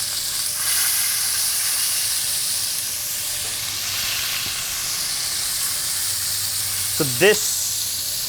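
Short ribs sear in a hot pan with a steady hiss and sizzle, close and continuous, with a brief spoken word near the end.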